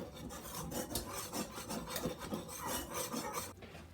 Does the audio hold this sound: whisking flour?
yes